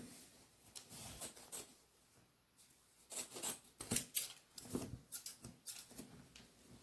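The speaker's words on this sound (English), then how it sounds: "I'm going to start cutting this shirt." Scissors snip through a cotton t-shirt in quiet, close bursts of crisp cuts, a short run near the start and a denser series of snips later, with pauses between; no talking.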